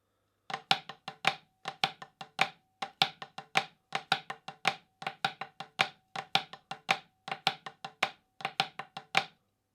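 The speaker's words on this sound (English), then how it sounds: "The last Flam rudiment is this, the Flamacue." Drums play the flamacue rudiment: a low flam followed by a syncopated accented figure. Sharp, dry strokes repeat in tight groups over about ten seconds, close and steady, with no voices.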